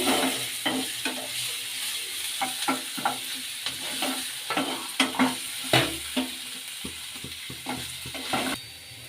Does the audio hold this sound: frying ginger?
yes